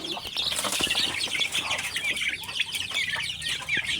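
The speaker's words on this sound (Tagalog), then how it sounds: "Katabi po niyan ay manok." Chickens and chicks cluck and peep together in a coop in a rural yard, a busy, continuous chorus of overlapping calls close by, with a few wing flutters.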